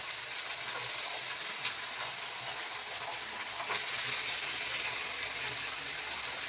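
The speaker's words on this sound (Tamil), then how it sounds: "பார்த்திங்கன்னா எண்ணெயில் நல்லா அதை வதக்கி எடுத்துக்கணுங்க" Ivy gourd (kovakkai) pieces frying in hot oil in a pan, giving a steady, dense sizzle and hiss with a few brief pops, heard close and continuous with no talking.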